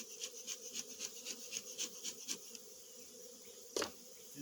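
Honeybee colony buzzing steadily during queen-cell work on mating nucs, with a dense, pulsing drone and a brief louder rustle near the end.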